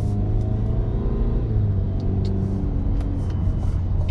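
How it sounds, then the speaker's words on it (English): A 2024 Cadillac CT5 sedan with a four-cylinder engine, in sport mode, accelerates under throttle, giving a steady loud engine rumble and drone that builds as it pulls, with no talking. "You can definitely hear that four cylinder."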